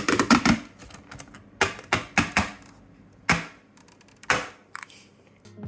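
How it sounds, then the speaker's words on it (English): Plastic wrapping being pulled off a pack of paper, a series of sharp crackling rips and snaps in uneven bursts with quiet pauses between, close and fairly loud, no talking. "I wanted a really satisfying clip of me removing the plastic."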